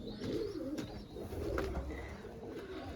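Pigeons in a loft coo softly in a few rolling phrases, faint and close with a quiet hum behind them.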